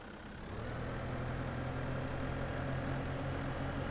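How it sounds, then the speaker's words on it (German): A farm vehicle engine in the Landwirtschafts Simulator 15 video game starts up and settles into a steady, low, droning idle with a constant hum. "einmal Motor an."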